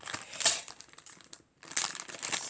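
Bubble wrap and paper packaging crinkle and rustle as a parcel is unwrapped, in close crumpling bursts broken by a brief silent pause before the crackling resumes.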